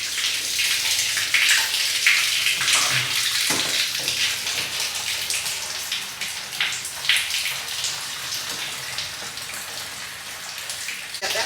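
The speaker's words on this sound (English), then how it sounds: "fill it up about 1/4 of the way with cold water and then the rest of the way with warm water" A bucket filling from a tap with cold and then warm water before milking, a steady broadband rush of running water close by and fairly loud throughout, with no talk.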